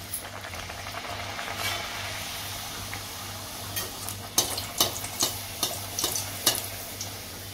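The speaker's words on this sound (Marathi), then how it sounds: "आता आपण तळून घेऊया. गरम तेलामध्ये तळून घ्यायचं आहे." Kombdi vade frying in hot oil, a steady close sizzle with low bubbling running throughout, broken in the second half by a series of sharp crackling spatters and pops.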